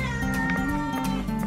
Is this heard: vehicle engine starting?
no